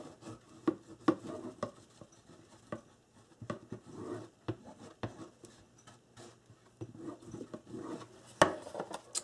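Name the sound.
bone folder wiping excess glue in a memory box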